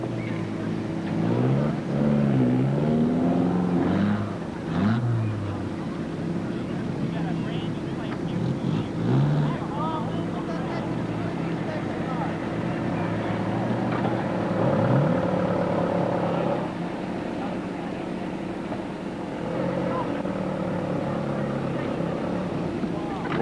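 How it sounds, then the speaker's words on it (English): Car wheels spin on grass at a 1987 roundup in Gettysburg, Pennsylvania, the engine revving and whining in rising and falling sweeps throughout, under ongoing nearby talk. "spinning wheels on the grass"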